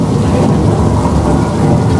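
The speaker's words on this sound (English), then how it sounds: "We have a series of above-the-ground sprinkler systems that shoots the water straight up into the air, and it falls down naturally, looking like rain." Artificial rain falling from an above-ground sprinkler system that shoots water into the air, a loud, dense, steady hiss and patter of drops with a low rumbling undertone.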